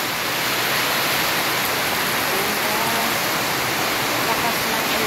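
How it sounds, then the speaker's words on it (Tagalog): Heavy rain pours down in a constant, dense hiss that stays loud and even from start to finish, with no voices over it. "Lakas ng ulan."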